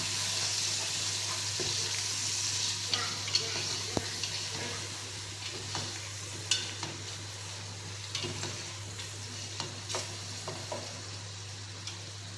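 Thickly cut tomatoes sizzle in a hot pan while a spoon stirs them, soft frying hiss with scattered scraping clicks and a steady low hum underneath.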